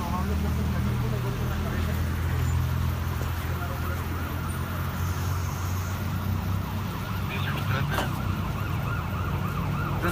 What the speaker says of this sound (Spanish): va llegando apenas el servicio de la ambulancia. Esta es una ambulancia del área de Protección Civil Estatal